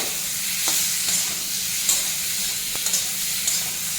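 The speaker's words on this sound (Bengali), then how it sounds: "টমেটোটাকেও একটু ভেজে নেবো" Tomato frying lightly in a pan for a thin fish and vegetable curry, a steady soft sizzle and hiss with occasional faint stirring clicks, close and continuous.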